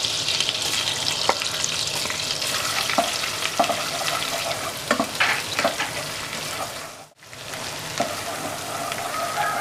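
Chopped ginger and garlic sizzle in hot oil in a pan for a butter paneer masala, a constant close crackling frying noise broken by scraping stirs and one brief pause.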